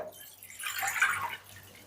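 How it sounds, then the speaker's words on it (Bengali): Ice-cold water poured into a bowl in a kitchen, a faint, brief splashing trickle lasting about a second against a quiet background. "আমি আইস ঠান্ডা জল নিয়ে নিয়েছি। এবার এটাকে আমি একটা পাত্রের মধ্যে ঢেলে রাখছি।"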